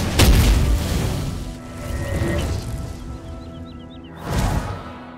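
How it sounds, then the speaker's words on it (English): Spell-casting magic effects in the video game Oblivion with a sound overhaul mod: a heavy booming whoosh opens, a shimmering tonal hum follows, and a second burst swells near the end. No voices. "magic effects,"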